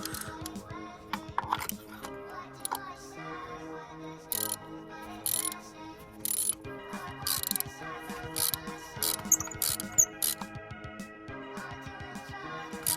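A hand ratchet fitted with a spark plug socket works loose the spark plugs on a high-mileage Honda Accord coupe with a K-series engine, giving repeated close clicking runs with pauses and occasional metallic clinks between strokes.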